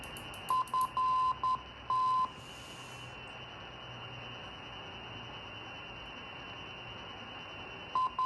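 Short steady electronic tones beep in a quick irregular burst over a constant hiss of static from a Kenwood R5000 radio receiver, then fall silent before two more beeps at the end.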